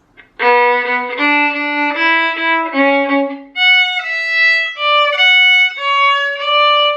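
A solo violin plays a short melody, several sustained notes in a lower register before rising higher, clear and close.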